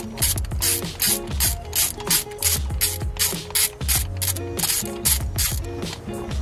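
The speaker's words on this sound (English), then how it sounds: "This is now where you take that 5/8 socket, break the spark plugs free." A 5/8 socket on a ratchet wrench breaking spark plugs free on a Ford 4.6L engine, a loud rapid clicking ratchet close up, in repeated bursts of pawl clicks.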